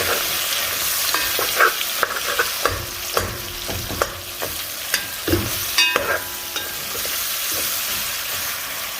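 Meat frying in a pan with onion and garlic, a steady close sizzle broken by repeated scraping stirs and knocks of the utensil against the pan, with no talking.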